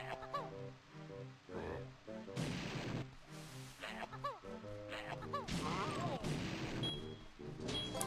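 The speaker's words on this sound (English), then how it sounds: "They cause an explosion that will actually hurt you if you are a little bit too close to where you shoot it." Grenade eggs exploding in Banjo-Tooie, several booming blasts going off amid upbeat game music and effects, loud and close, spaced irregularly through the stretch.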